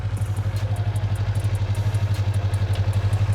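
A motorcycle engine idles in neutral close by, a steady low rhythmic thumping pulse with faint mechanical clatter and no speech.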